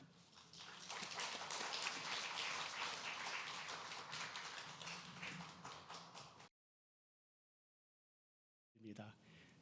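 A church congregation at a university Sunday service applauds with steady dense clapping that lasts several seconds, then cuts to silence before a voice briefly resumes.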